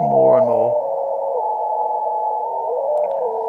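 Steady radio tones on the 4 m amateur band, a sustained warbling whistle-like carrier holding for several seconds, with a brief voice-like burst at the start.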